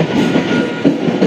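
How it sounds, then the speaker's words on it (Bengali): A Sealdah Division EMU local train runs close by, a loud continuous rumble with rhythmic wheel clatter. "শিয়ালদা ডিভিশনের সবথেকে সুন্দরতম লোকাল ট্রেন হচ্ছে এটা ইএমই সুন্দরী নামের"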